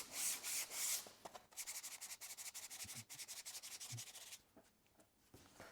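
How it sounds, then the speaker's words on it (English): 240-grit sandpaper rubbed along a small 18 mm fiberglass tube for a model rocket, a quiet, rapid rhythmic scratching of back-and-forth strokes, close and faint, with a brief pause near the end. "I like to polish them real quickly with 240 and then 400 grit sandpaper"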